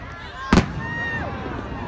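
A single firework bursts at an Algonac fireworks show with one sharp, loud bang, followed by a crackling whistle and crowd noise, while people talk excitedly nearby.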